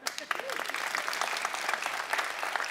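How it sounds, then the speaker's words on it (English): An audience bursts into steady, dense applause, sustained clapping heard close and fairly loud, with a voice briefly audible at the start. "Let's give her a hand."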